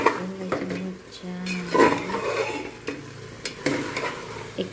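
Chicken feet are stir-fried in a pan, a spatula scraping and clanking against the metal over a soft sizzle in irregular strokes, with brief speech mixed in.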